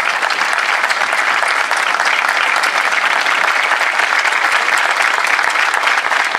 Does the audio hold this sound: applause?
yes